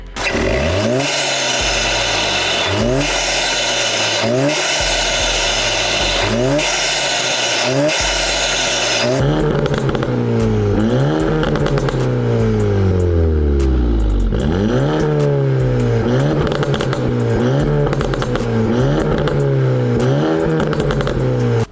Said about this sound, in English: the exhaust crackles with the tune, with the APR stage 2 tune on it